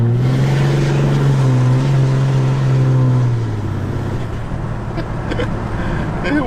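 A Cummins diesel truck with an HPP and RevMax tune pulls away, its loud engine drone climbing and falling through gear shifts before easing off into road noise, with a voice heard in the cab.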